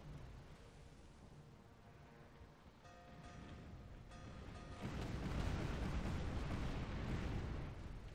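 Ship cannons firing in the pirate action RPG Tempest: a rumbling naval soundscape with faint tonal game sounds, then a heavy, sustained booming barrage that swells loud for the last few seconds.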